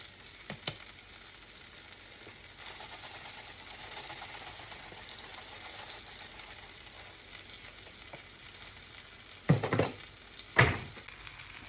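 Teriyaki chicken sizzles face down in a pan, a steady soft frying hiss running throughout with a couple of louder crackling bursts near the end.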